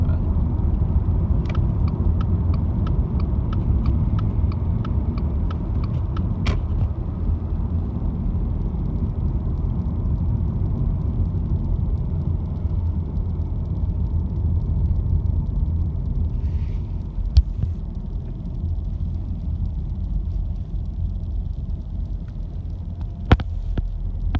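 A 2018 Subaru Impreza engine hums low and steady while driving, with constant road rumble inside the cabin and a few faint clicks, kept under 3,000 RPM during break-in.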